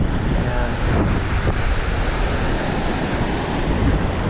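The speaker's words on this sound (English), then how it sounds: "Our waterfall." A mountain waterfall on the Big Pine Creek trail gives off a steady, dense rush with no pauses. Wind buffets the microphone on top of the roar, and nobody speaks.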